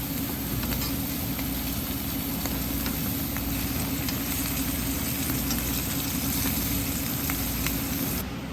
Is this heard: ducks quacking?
no